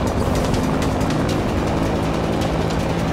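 A helicopter in the racing game Need for Speed: Rivals makes a loud, constant rotor and engine roar across the whole short stretch, with no speech.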